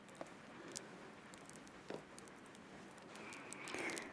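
Soft, steady rain falls at night as a faint, even hiss with a few scattered light taps and patters, distant and gentle, with no voices over it.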